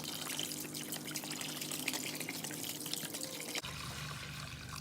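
Vinegar pours steadily from a gallon jug into a container to soak an old J H Williams wrench, a continuous liquid splashing and trickling sound that runs for several seconds, then shifts to a softer, lower pour near the end.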